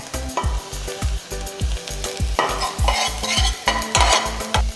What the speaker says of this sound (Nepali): प्याजलाई पनि एकछिन खैरो हुने गरेर मिडियम आगोमा